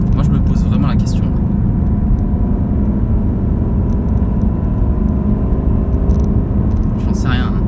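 A 2018 Ford Mustang GT accelerating from inside the cabin, a loud, steady low engine roar with rumble that holds for the whole stretch. A voice speaks over it now and then.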